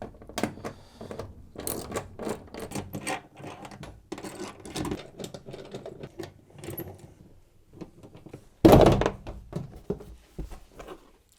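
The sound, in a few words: undoing washer dryer back panel bolts with a 7mm socket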